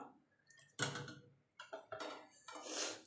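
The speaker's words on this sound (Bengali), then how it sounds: "এবার ডিমগুলো তুলে আমি ঠান্ডা জলে দিয়ে দেবো" Boiled eggs are lifted out and dropped into cold water, giving a few close clinks and knocks of eggs and utensils against a pot or bowl, with a louder clattering splash at the end.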